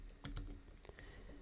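Someone types briefly on a computer keyboard while running commands in a Node.js terminal, a few quiet, close clicks in a quick cluster, then a faint trailing keystroke, with no talk.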